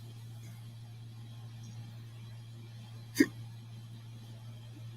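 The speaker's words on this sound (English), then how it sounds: "Got hiccups over there, man?" A single short hiccup sounds once, quick and fairly close, over a steady low hum of background noise.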